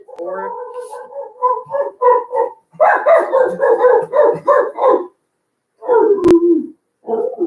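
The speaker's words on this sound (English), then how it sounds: "What are you barking at?" A dog barks repeatedly in close, loud bursts, a rapid string of woofs broken by brief pauses, with a whiny edge to some barks.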